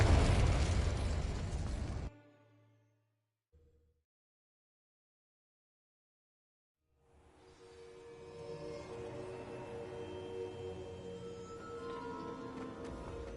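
A Confringo incendiary spell in Hogwarts Legacy bursts with a loud, full-bodied explosive roar that cuts off abruptly. A brief fading tail and near-silence follow, then a quieter game ambience builds slowly.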